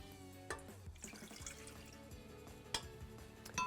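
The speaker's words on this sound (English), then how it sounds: "to this, I'm going to add in some warm water." Warm water poured into a stand mixer bowl while making donut dough, heard as a faint, steady trickle with a few soft drips and clinks, close by and without talk.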